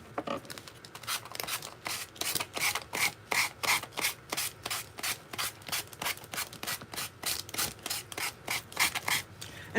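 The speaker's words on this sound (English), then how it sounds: "when you're sanding, just remember to always sand in one direction" Steady back-and-forth rasping of hand sanding a Christmas ornament, about two strokes per second, close and clear with no talking.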